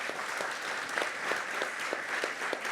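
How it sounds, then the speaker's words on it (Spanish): Steady audience applause fills a book launch event for a mountaineering book about Everest, dense and continuous clapping from a roomful of people with a few sharper individual claps standing out. "la editorial se merecen un tremendo aplauso"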